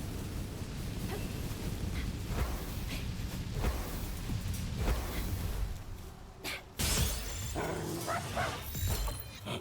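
A dog-like creature in the video game Palworld barks in repeated short bursts over a dense, busy game soundscape, with a louder burst near the end.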